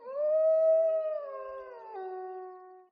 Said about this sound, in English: That's not what that sounded like. It sounded like a werewolf.